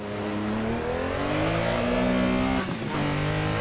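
A Porsche 911 RSR race car in a video game hillclimb accelerates hard in second gear, its engine note rising steadily and loudly, then briefly cutting at a shift before climbing again.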